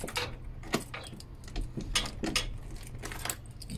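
Keys jangling and clicking against a door lock while someone tries to unlock it from the outside, a series of sharp metallic rattles and taps spaced irregularly over steady background hum.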